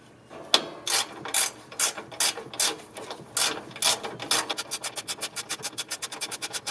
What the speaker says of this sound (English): Let's screw it down using that 10mm bolt.